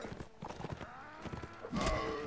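A horse galloping into enemies in Mount & Blade, rapid hoofbeats thudding close and loud over battle noise, ending in a heavier rush of sound.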